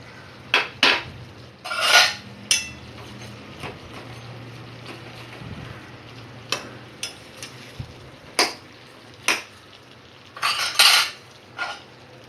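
Jaggery is stirred into softened raw mango in a pot for a sweet-sour pickle: a spoon knocks and scrapes sharply against the metal pot in irregular bursts, with quieter gaps between.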